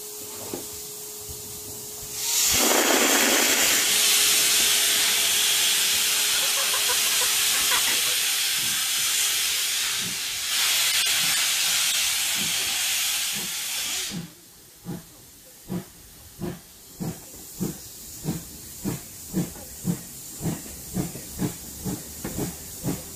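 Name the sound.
steam locomotive hissing as it starts pulling a passenger train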